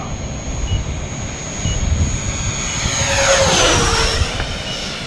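A radio-controlled model airplane flies overhead, its propeller engine buzzing steadily and growing louder as it passes close by around the middle, then falling away with a clear pitch drop.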